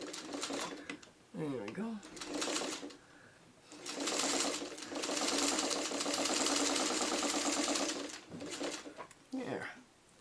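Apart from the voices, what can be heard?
sewing machine stitching roof piece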